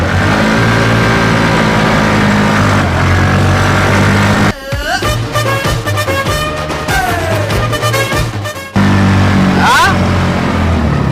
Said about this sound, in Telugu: ఇగో ఇప్పుడు ఎట్లా తిరుగుతుంది బండి.